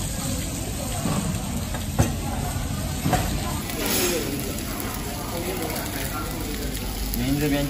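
Eggs sizzle and spit steadily on a hot iron griddle at a Xiamen seafood buffet, a continuous close frying hiss with a few sharper pops, while people talk over it.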